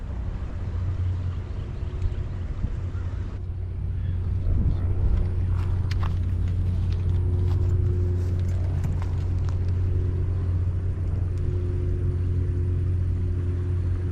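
A river barge passes on the Mississippi River during catfish fishing, a steady low engine drone and rumble that swells slightly as it draws nearer, with no voices over it.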